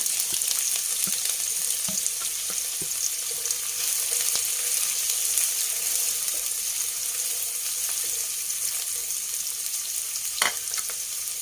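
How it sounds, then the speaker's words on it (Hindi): Onions fry in hot oil with a steady, even hiss that runs throughout, broken now and then by faint clicks and one brief louder scrape near the end. "ऑयल गर्म हो गया है, मैं इसमें प्याज डालती हूँ।"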